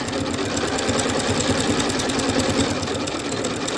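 Sewing machine running a zigzag stitch on scrap fabric for a boy's tie, a close, steady rapid mechanical whirring and clatter with an even needle rhythm throughout, no voice.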